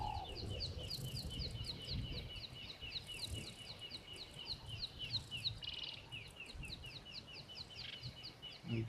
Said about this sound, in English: the birds are so peaceful to listen to